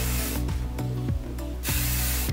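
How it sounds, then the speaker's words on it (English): Several short, sharp bursts of hairspray hiss close by, one after another, ending in a longer spray. "We're gonna do a quick spray."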